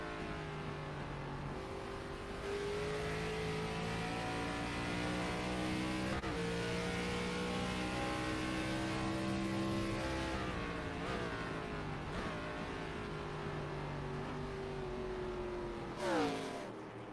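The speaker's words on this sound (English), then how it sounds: "Hear just how much he had to lift out of the throttle there to keep the thing wound up" Race car in a racing video game at Lime Rock Park, engine droning steadily at high revs, then dropping in pitch as the driver lifts off the throttle, with a brief sharp rise and fall near the end; no talk over it.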